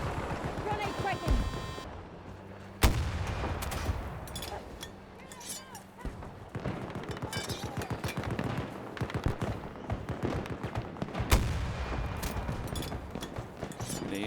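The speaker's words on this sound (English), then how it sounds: "Grenade out!" Gunfire and a grenade explosion in the Battlefield 2042 video game: rapid bursts of shots and a sharp blast crackle through the mix, with players talking over the combat throughout.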